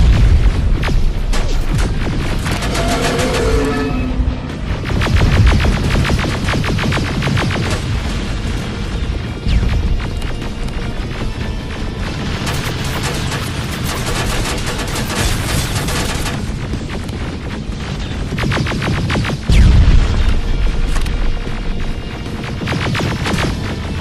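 Heavy gunfire and booming explosions from a Terminator: Resistance firefight, loud and continuous with dense bursts of shots and several deep blasts, no talking.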